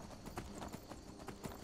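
A workhorse's hooves clip-clop in Skyrim Anniversary Edition, a steady run of about eight quiet, evenly spaced hoofbeats at close range.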